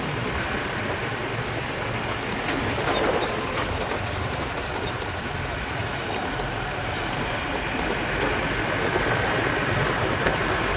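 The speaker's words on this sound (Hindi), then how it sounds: "तो सामने आ गया रेलवे स्टेशन।" A train rumbles steadily with broadband noise and faint clatter, heard at City railway station in Udaipur, India, amid ambient crowd murmur throughout.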